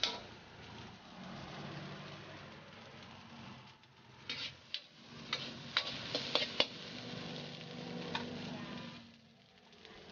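Thai stir-fried rice with crispy pork sizzles in a street vendor's pan, a steady hiss of frying with scattered ticks and scrapes of stirring building in the middle, and no voices.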